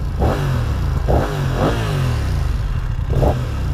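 Sporty BMW motorcycle engine revving, a low rumbling idle punctuated by four sharp throttle blips rising and falling, loud and close.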